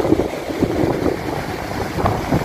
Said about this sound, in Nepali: सिधै लेदो र पानी मात्र बगिरहेछ